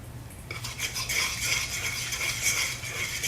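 A fork works through a chicken meatball mixture in a bowl, giving soft, steady scraping and clinking against the bowl that runs continuously at close range.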